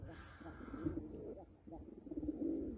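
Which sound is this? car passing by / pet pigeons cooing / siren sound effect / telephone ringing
pet pigeons cooing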